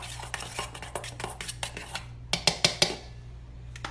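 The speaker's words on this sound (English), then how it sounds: "I'll get a different spoon so it won't be so loud for y'all." A spoon stirs and clinks against a bowl while deviled egg filling of onions and sour cream is mixed, giving a steady run of light scraping taps that end in a few louder, sharper clanks near the close.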